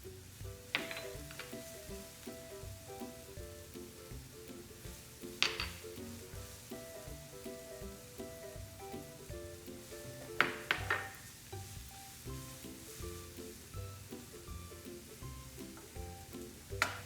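Zucchini noodles seasoned with garlic powder, pepper and Italian seasoning sizzle steadily in a pan as they heat, with a few sharp clinks of a utensil against the pan over the continuous frying hiss, no one talking.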